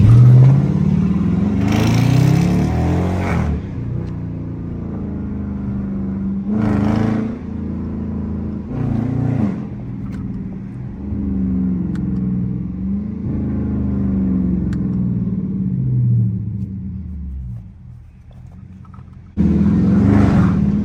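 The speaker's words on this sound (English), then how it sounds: "Give y'all a little pull at the light." A Dodge Charger R/T engine revs and accelerates hard with traction control off, a loud close rumble surging in repeated pulls, with sharp bursts of high-pitched roar near the start and again at the end.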